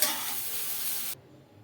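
Eggplant frying in oil in a pan, a steady bright hiss that runs loud for about a second and then cuts off sharply, leaving only faint room noise.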